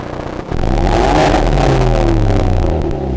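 Hyundai Veloster with a Depo Racing downpipe revs hard and holds a loud, steady roar for about three seconds. A rising turbo whine runs over the engine note, which then eases off near the end.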